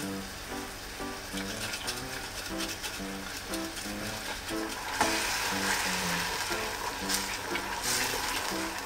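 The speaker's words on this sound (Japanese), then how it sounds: "火にかけて、味噌とか溶かしていきます" Miso marinade heating in a pan sizzles and crackles steadily while being stirred. The sound is soft and continuous, with a few brief scrapes.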